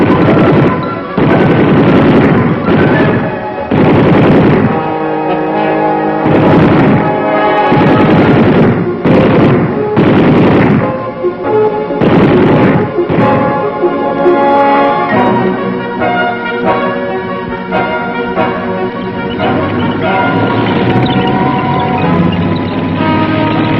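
An M60 tank undergoing weapons testing fires repeatedly, giving loud heavy booming blasts at irregular intervals with rumbling tails between them, followed by sustained engine and track noise, all close and powerful with no talking.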